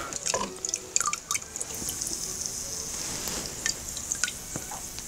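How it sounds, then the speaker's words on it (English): A porous concrete chunk from the Atlantus shipwreck, lifted out after soaking, sizzles and fizzes as water drains from it, with a close, quiet crackle and scattered drips popping irregularly throughout. "Do you hear it sizzling?"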